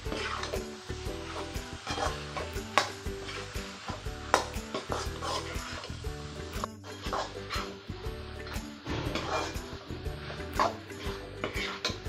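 Masala for chicken gravy sizzles and fries in a pan while being stirred, a steady crackling hiss with recurring scrapes and clanks of the spoon, close and continuous without speech.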